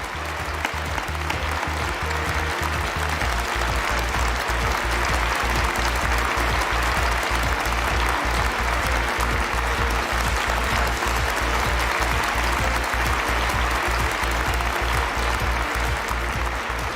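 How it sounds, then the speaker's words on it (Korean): Sustained applause from a large crowd, steady and loud throughout with dense clapping and no break. "여러분 큰 박수로 우리 마이크 펜스 부통령을 모셔주시면 좋겠습니다"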